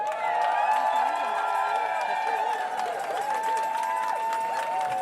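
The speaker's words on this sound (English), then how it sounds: "We thank Chief Turtle with another big round of applause" A crowd applauding and cheering for Chief Turtle of Grassy Narrows First Nation at a gathering, sustained clapping with voices and tonal sounds layered over it.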